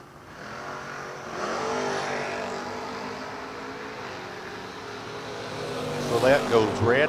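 Drag racing cars, one of them a Camaro in the left lane, roar off the line in a loud sustained engine drone that swells with revving bursts near the end, with an announcer talking over it.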